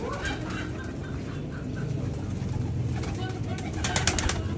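Pigeons in a village pigeon coop, with faint cooing and fowl calls scattered under steady background noise and nearby human voices, a few sharper bird sounds toward the end.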